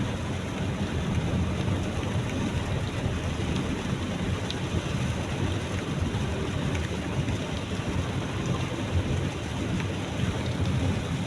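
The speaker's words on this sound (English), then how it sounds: "You know, it's super cool when it's raining." Rain falling steadily in an outdoor setting, a constant broadband patter and rush at moderate level with a low rumble underneath, no voices.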